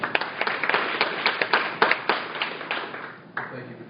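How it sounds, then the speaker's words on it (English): An audience at an Advertising Week social media conference session claps for the speakers, a loud scattered patter of many hands close by that thins out and tapers toward the end. "please give them some applause"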